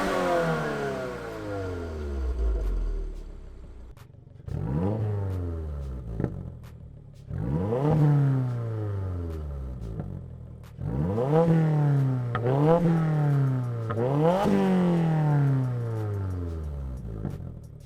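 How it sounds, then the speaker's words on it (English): A Subaru WRX fitted with a Perrin axle-back exhaust, revved repeatedly: after a long falling note, a series of sharp blips climb and drop back, close and loud with a deep burbling tone. "22 WRX Axleback exhaust from Perrin."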